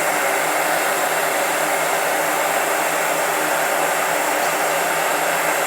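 Steady, loud rush of hot air from a heat gun, a constant broadband roar that stays even for several seconds with no talking.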